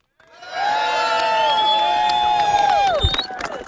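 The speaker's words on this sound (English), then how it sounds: "Let's give a round of applause and a hooray for the thought criminal." Crowd at a gathering shouting a long, drawn-out hooray together, loud and sustained for about three seconds before breaking off.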